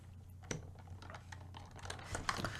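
A computer keyboard pressed for a Control F shortcut: a few soft, close key clicks over faint room hum, with no speech.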